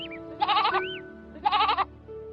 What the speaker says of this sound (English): In the morning, there came a goat.